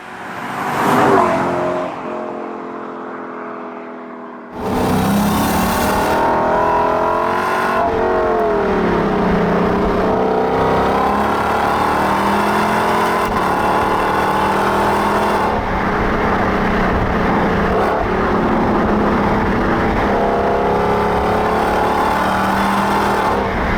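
A Lexus LC500 accelerates hard, its engine revving loud and close, rising through the gears with brief dips at each shift, sustained for over twenty seconds after a short quieter lead-in.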